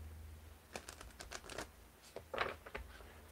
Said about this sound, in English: And then just do a couple more quick little shuffles.